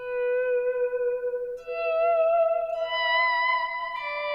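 Electric guitar through a Halo delay pedal, sustained notes stepping upward with repeats that blur together into a reverb-like wash, clear and close with no voices.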